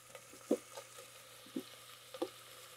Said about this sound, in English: we're going to sear it on all sides